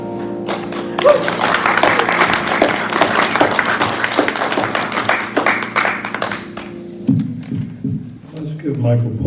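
Audience applause at a church talk, a dense burst of hand clapping that swells, holds steady for several seconds and then thins out to scattered claps.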